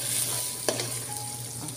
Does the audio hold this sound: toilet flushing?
no